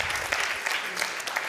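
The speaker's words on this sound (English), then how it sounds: "So let's give Diego a round of applause" Applause from a conference audience at a tech demo event, a short burst of dense clapping with a few louder individual claps, fairly steady throughout.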